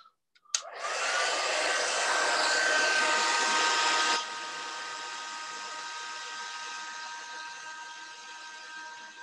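A heat embossing tool switches on with a click and blows hot air in a steady, loud whooshing hum, then drops to a quieter, continuous whir for several seconds, close by with no talking.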